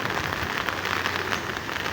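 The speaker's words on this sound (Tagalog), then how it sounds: "Lakas guys ng ulan." Heavy rain pours down steadily in Biliran as a dense, continuous hiss of drops beating on surfaces, loud and close with no pause.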